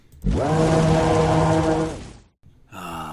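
A drawn-out synthetic Pokemon cry of the Singer Pokemon, a breathy, roaring sustained tone lasting nearly two seconds, followed by a brief rising call.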